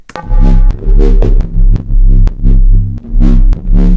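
Heavily distorted synth bass in Ableton, loud and sustained, pulsing in a throbbing rhythm with sharp rhythmic transients cutting through every half second or so, no voices.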